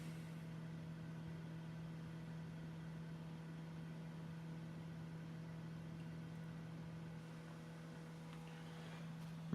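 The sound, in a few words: computer spinning its disk during Windows XP setup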